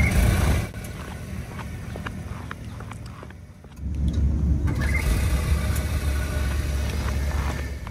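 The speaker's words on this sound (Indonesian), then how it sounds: "dan ini pas mesin mobilnya nyala ulang abis idling stop" A Suzuki Grand Vitara with a K15C mild hybrid SHVS system restarts smoothly after an idling stop: a quiet cabin hum gives way to a steady, low engine rumble that continues evenly, close and moderately loud.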